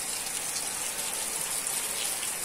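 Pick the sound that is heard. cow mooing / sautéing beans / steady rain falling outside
steady rain falling outside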